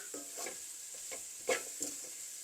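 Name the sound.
onions frying in a pan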